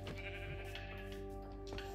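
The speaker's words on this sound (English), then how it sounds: "Oh, sheep." Sheep bleating in Minecraft, a few drawn-out bleats over steady game background tones, close and fairly loud.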